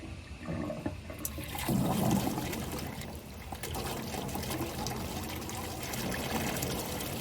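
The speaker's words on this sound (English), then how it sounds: "soon it'll start flowing water again" Water rushes and gurgles through a 4-inch vacuum siphon pipe as the flow restarts, a close and continuous churning that swells at times.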